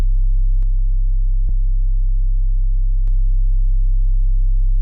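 A steady, deep sub-bass tone from a Serum 2 synthesizer drones throughout, broken by a few faint clicks.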